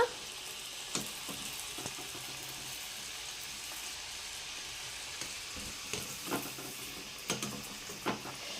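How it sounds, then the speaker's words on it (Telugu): Kudumulu dumplings fry in hot oil with a constant soft sizzle and hiss, broken now and then by brief clinks and scrapes of a utensil in the pan. "ఈ కుడుములు అయితే వేసేసుకుంటాను నేను కుడుములు వేయించుకుంటే పని అవుతుందన్నమాట"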